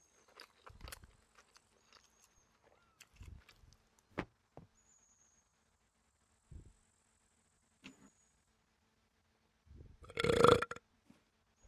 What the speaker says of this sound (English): Dude, why did you just burp so loud?